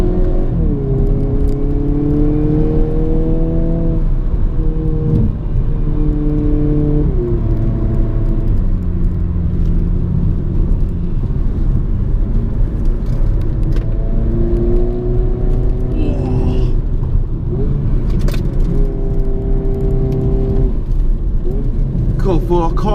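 A 2022 Hyundai Kona N with a DCT gearbox accelerating, its engine note rising in steady pitch sweeps that drop back at each quick shift, loud and continuous from inside the car.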